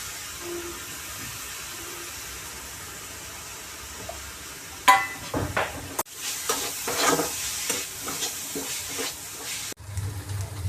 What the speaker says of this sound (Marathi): सुकट चांगली तेलामध्ये परतून झालेली